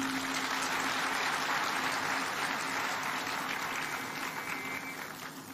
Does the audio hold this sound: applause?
yes